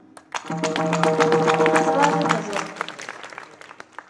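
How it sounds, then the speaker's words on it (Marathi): Audience clapping at a Marathi devotional kirtan discourse swells for about two seconds, blended with sustained musical tones, then thins into scattered claps. "टाळ्यांचा आवाज जरा कमी आला म्हणून म्हटलं."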